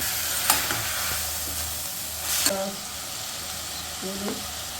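Prawns sizzle in a pan as turmeric is added for a home-style prawn curry. A steady, close frying hiss runs throughout, broken by a few light scrapes of stirring.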